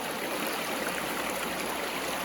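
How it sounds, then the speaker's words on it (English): A river streams over rocks right beside the listener, a steady dense rush of water flowing without pause and with no voices. "I'm kind of right in the middle of the river here, sitting on some rocks."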